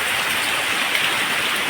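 Heavy rain pours down steadily on a flood-hit rural home, a dense, even hiss filling the whole stretch without any voices.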